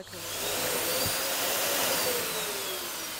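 A vacuum cleaner runs steadily over a cosmonaut's clothing being cleaned before a space flight, with a loud, continuous whooshing hum heard close up.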